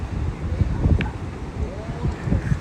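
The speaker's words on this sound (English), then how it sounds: "Very windy." Strong, stormy wind in San Juan buffets the microphone in low rumbling gusts, rising and falling throughout, with faint background noise.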